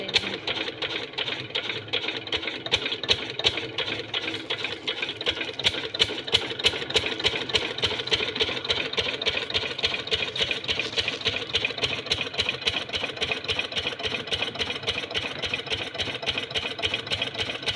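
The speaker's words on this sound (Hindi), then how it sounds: "तो अभी मैं चालू कर देता हूँ डीजल इंजन" A diesel engine runs on a farm with a steady, rapid mechanical chugging and a clattering rhythm. It sounds close and continuous, with no voices over it.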